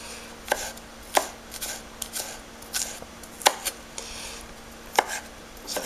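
A knife chops garlic finely on a cutting board for a barbecue skewer marinade, with sharp, irregularly spaced thwacks of the blade striking the board, close and moderately loud against a quiet background.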